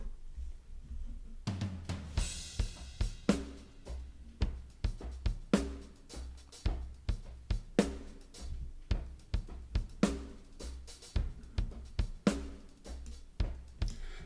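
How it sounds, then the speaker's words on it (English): A separated drum track with EQ on the kick, snare and hi-hat plays a steady groove, deep kick thumps and crisp snare and hi-hat hits repeating in a regular rhythm at low level, with no voices. "So now our drums sound like this."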